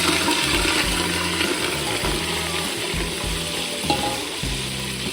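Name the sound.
whole spices sizzling in very hot oil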